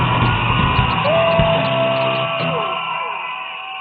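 An audience at a talk event with Kangana Ranaut cheers and yells loudly, a dense continuous crowd roar with whoops that slowly fades toward the end.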